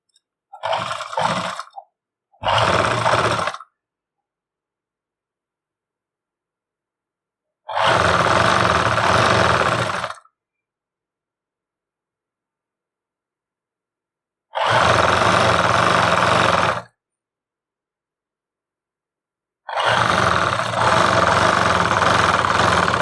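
An electric sewing machine stitches lace onto a cream-coloured suit in four separate bursts of steady whirring, one short stuttering run followed by three longer ones, loud and close with silence between.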